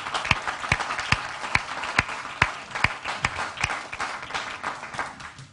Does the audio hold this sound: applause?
yes